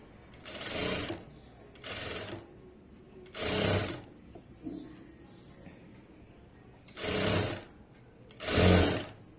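Sewing machine stitching thread piping on fabric, running in five short bursts of about a second each with quiet pauses between, close and fairly loud.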